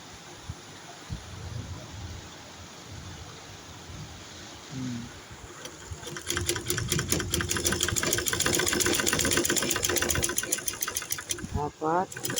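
Sewing machine stitching a seam on a size 32 bra, a fast steady mechanical whir with dense rapid needle ticks running continuously for several seconds, starting after a quieter stretch of room noise and faint speech.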